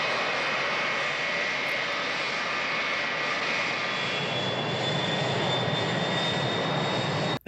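Airplanes taking off on a runway in the 1968 film Bullitt, a loud continuous roar of aircraft engines with a steady high whine, filling the whole stretch and cutting off abruptly at the end.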